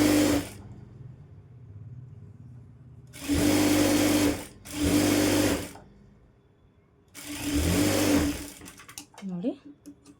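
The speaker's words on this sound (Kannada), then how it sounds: "ಎಡ್ಜಿಗೆ ಹಾಕ್ಕೊಳ್ಳಿ ಸ್ಟಿಚ್ಚು, ಒಳಗೆ ಹಾಕ್ಕೊಳಕ್ಕೆ ಹೋಗ್ಬೇಡಿ." Sewing machine stitching along the edge of a blouse back piece, heard in three distinct bursts of steady whirring, each lasting a second or two with pauses between, loud and close, with a voice speaking in the gaps.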